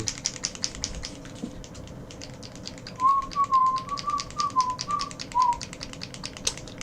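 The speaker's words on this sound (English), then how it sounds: "Sorry for whistling right into the microphone there." Someone whistles a short wavering tune close to the mic, over a steady stream of rapid light ticking and tapping.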